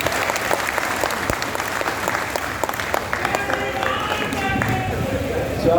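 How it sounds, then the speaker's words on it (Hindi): Audience at a poetry recital in an auditorium clapping steadily, a dense sustained applause of many hands that fills the room. "मुझे बैठने की इजाजत आप ताली बजा कर दे दीजिए।"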